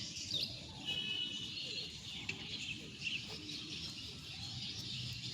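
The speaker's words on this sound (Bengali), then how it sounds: "দেখ পাখিগুলো ডাকছে কিচির মিচির" Small birds chirp with brief, scattered tweets over a low outdoor background, faint and somewhat distant, with no talking.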